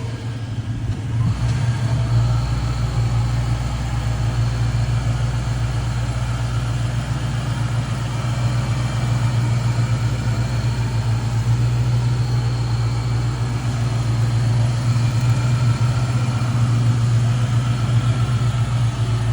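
A rare barn-find Saleen XP8, running for the first time in eleven years, idles steadily with a loud low-pitched engine hum as it is shifted into drive, the note constant and close throughout with no talk.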